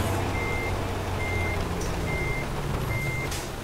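A heavy truck in American Truck Simulator backs up while its reversing alarm beeps at a slow, even interval over a loud, constant engine rumble; no talking.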